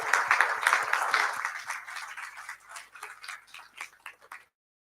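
An audience at a global health security panel applauds the panelists, a warm burst of clapping that thins into a few scattered claps and then stops, leaving silence.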